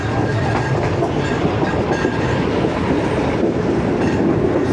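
A train running through Gojra railway station and picking up a little speed, loud steady rumble with rhythmic wheel clickety-clack heard from on board, no voices.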